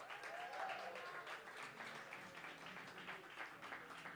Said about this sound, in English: Keep that round of applause going for Jay Rice.